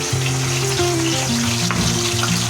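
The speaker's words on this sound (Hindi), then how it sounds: "अब इसमें डालते हैं अदरक को, जो पीस के रखे थे अदरक को, पेस्ट को इसमें डालते हैं और भूनते हैं इसको" Ginger paste frying in hot ghee in a pan while making dry fruit laddus, a loud, continuous close sizzle that stays even throughout with no talking.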